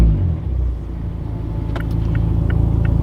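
A Mazda Miata ND fitted with an ISR circuit spec exhaust drives off at low speed, its deep, steady exhaust rumble close and continuous, with a few faint clicks and taps over the drone.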